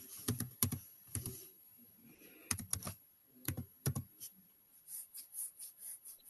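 Typing on a computer keyboard during a US history class, heard as several bursts of quick clicking keystrokes separated by short pauses, close and moderately loud, with a soft run of lighter taps near the end.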